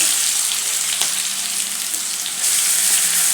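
Mustard seeds crackling in hot oil for a tempering, a loud continuous sizzle with scattered pops, close by and alone.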